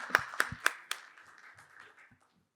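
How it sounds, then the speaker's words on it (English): A small audience at a marketing conference panel discussion gives a few sharp, scattered claps that quickly thin out and fade into near silence, quiet and close. "Let's give them a nice round of applause."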